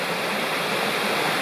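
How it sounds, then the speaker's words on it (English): A hidden, isolated waterfall deep in Nantahala National Forest pours with a dense, steady roar of rushing water, close and unbroken throughout. "What a waterfall."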